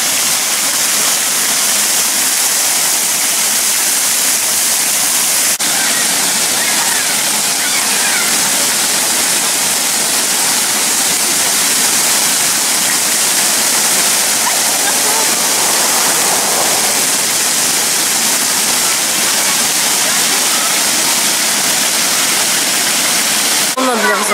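A shark-shaped fountain at a hotel pool in Turkey spouts water from its mouth, giving a steady, close splashing rush that runs unbroken throughout.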